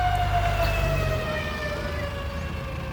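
A fire truck siren wails steadily from a distance in a clear, rising-and-falling tone, with a low vehicle rumble underneath that fades after the first second, near a building fire.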